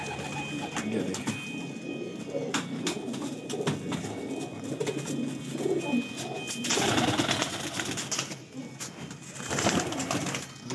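A Teddy pigeon pair sitting on eggs coos in repeated low throaty calls, with other birds chirping nearby in a busy loft setting.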